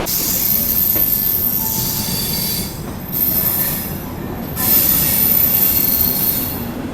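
The Mumbai Rajdhani Express pulls into CSMT station with loud, high wheel squeals rising and falling over a rumbling clatter of rail cars, lasting about seven seconds, with no voices.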